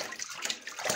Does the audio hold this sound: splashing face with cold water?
yes